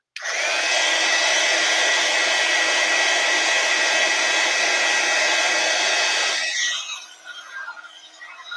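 A heat gun heat-setting embossing powder on a handmade card, a loud, steady roaring blow held close for several seconds before switching off and fading into faint room noise.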